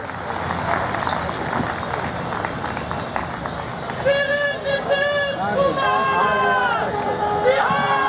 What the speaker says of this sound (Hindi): बिहार श्री नीतीश कुमार जी का जोरदार ताली से स्वागत।